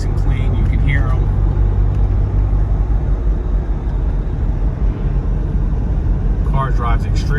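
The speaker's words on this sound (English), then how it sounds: "turbos spool up nice and clean. You can hear them." Continuous engine rumble from inside a Mitsubishi 3000GT VR-4 with a rising twin-turbo whine, and a person talking over it.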